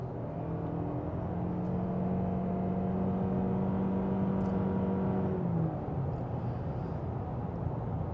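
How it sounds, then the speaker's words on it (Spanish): A 2023 Toyota Camry SE Hybrid sedan accelerates, its engine hum rising and whirring steadily from inside the cabin before easing off near the end, with no talking. "Le voy a dar un acelerón más"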